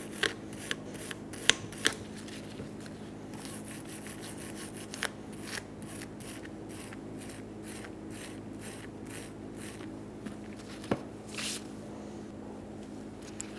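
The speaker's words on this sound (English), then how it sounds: "Using a wire brush, we're going to clean where our tins are going to sit." A wire brush scrubs the rear brake caliper bracket of a 2003-2007 Honda Accord in a series of short, sharp scratchy strokes that come in uneven bursts over a steady low background hum.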